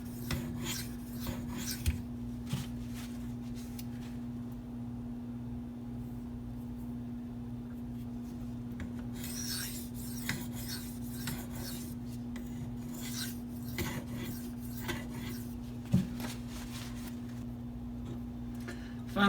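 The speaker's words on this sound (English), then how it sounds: "I'm going to go ahead and lay the knife flat a little bit closer to the spine just to polish that bevel" A Maxamet steel knife is stroked across a Venev diamond stone with the blade laid flat near the spine, producing a steady, soft rasping scrape with faint clicks, continuous and close throughout.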